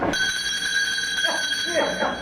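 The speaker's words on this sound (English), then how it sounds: "Oh, their church bells sound so light and inviting." Light, bright church bells ring steadily throughout, a sustained metallic tone over which people speak.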